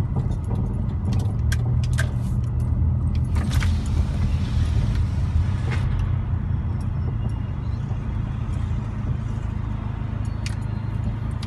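A car rolls into a parking lot. The steady, close engine rumble is heard from inside the cabin, with a few light clicks and jingles early on.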